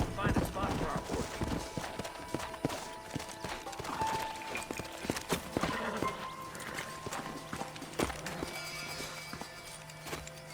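Horse hooves in Red Dead Redemption clip-clop in an uneven rhythm alongside a whinny, with other game sounds and spoken dialogue over the top.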